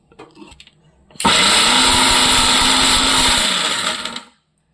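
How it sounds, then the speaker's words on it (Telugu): An electric mixer grinder blends mango ginger pickle ingredients with fenugreek powder: after a second of quiet handling, the motor starts abruptly and roars loud and steady for about three seconds, then stops. "మొత్తం కలిపి మనం అన్నీ కూడా ఈ దీంట్లో వేసేసి మిక్సీ వేసుకోవాలండి"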